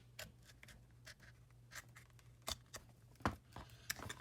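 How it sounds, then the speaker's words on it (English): An X-Acto knife scores and cuts through gummed tape on a mini dress form, faint close scratchy strokes in an irregular series, growing slightly louder toward the end. "You take your X-Acto knife and you just score and cut through the back."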